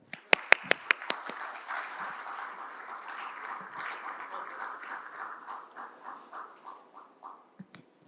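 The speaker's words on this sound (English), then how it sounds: "Keep clapping." An audience breaks into applause after a few sharp claps, the clapping swelling and then slowly thinning out and fading.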